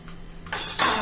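Mustard seeds crackling in hot oil in a kadhai, a faint hiss that swells into bright, steady sputtering sizzle, close and unaccompanied by talk.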